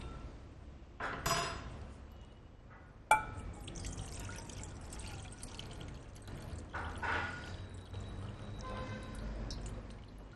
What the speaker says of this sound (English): I'm going to drain that excess water